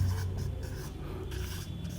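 Steady marker or chalk strokes writing on a board in a classroom, a continuous scratchy run of writing up close with no speech.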